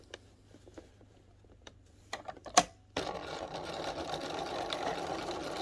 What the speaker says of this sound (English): And this time I stitch it from the front just to see it better.